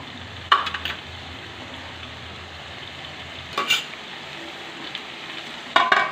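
Chicken curry sautéed in a pan with spices and oil: a steady close sizzle runs throughout, broken by three short bursts of scraping and stirring, with no talk.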